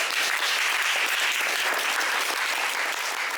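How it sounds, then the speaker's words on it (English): A room of people gives a round of applause just before a show, with dense, steady clapping at full strength throughout and no voices standing out. "Give yourselves a round of applause for that."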